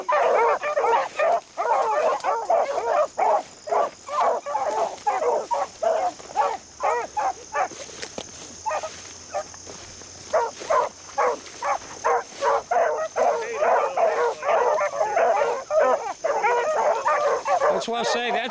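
A pack of beagles bays continuously while running a hunt at a Northern West Virginia beagle club, with rapid overlapping yelps and barks at middle distance and occasional brief talk over them.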